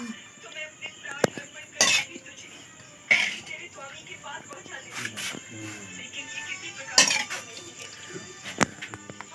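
Metal utensils clink and scrape against bowls and pots as chicken curry is served, with several sharp separate clinks under soft talking in a home kitchen.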